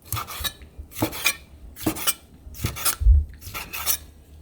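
A knife cutting small squid on a board, a rhythmic series of about five scraping, rasping strokes at close range, no talking.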